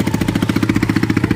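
Motorbike engine running close by, a steady rapid thumping pulse at an even idle rhythm, loud and alone.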